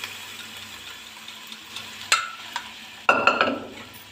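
Cooked urad dal tipped into a pan of spinach and stirred, with soft scraping and a couple of sharp spoon clatters against the pan over a faint low sizzle.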